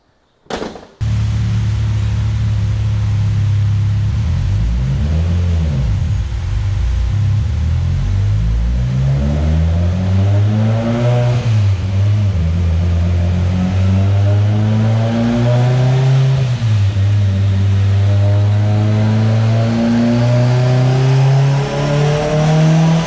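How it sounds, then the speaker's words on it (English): A Mitsubishi Evo X with a 2.2L big-bore engine revs hard on a dyno, its loud, close exhaust note rising and falling through several sweeping pulls before climbing steadily in one long run. "We're literally going to put it on our dyno and do some base runs before I start tuning."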